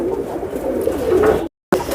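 Pigeons of a rare fancy breed coo in soft, steady low murmurs close by, continuing for about a second and a half before a brief silent gap, then resuming.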